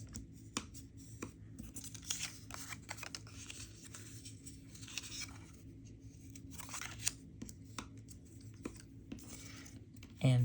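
Die-cut card stock being folded along its scored lines for a box card, giving soft paper creases, rustles and scrapes close by over a quiet room background.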